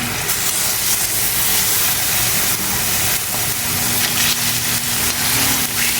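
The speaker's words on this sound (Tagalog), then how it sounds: "i-fry na natin yung ating uh, fish pagka mainit na yung ating mantika" Fish frying in hot cooking oil, a steady loud hiss and crackle of sizzling that runs unbroken throughout with no pauses.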